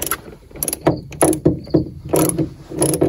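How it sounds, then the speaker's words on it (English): Ratcheting clicks from a torque wrench tightening bolts on a Mk4 Volkswagen Jetta during windshield and wiper work, a few short close bursts of mechanical clicking with no talk. "I've just got it set to the lowest setting on the torque wrench right now just to try and balance them"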